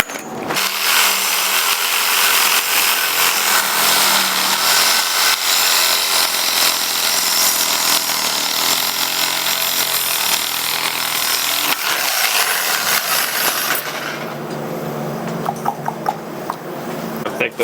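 A saw blade grinding steadily through Schedule 10 stainless steel pipe for a Toyota 1JZ turbo manifold, a loud continuous rasping whine that holds for most of the run before cutting out into lighter clinks near the end.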